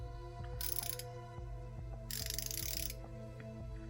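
A Kobalt Pro 90-tooth 3/8-inch ratchet clicks close up in quick, even bursts of fine ticks, stopping and starting between strokes under a low background hum.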